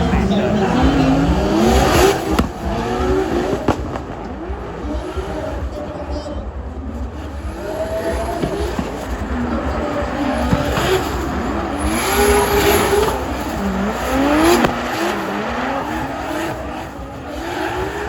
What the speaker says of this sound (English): these are like FD quality drift cars these days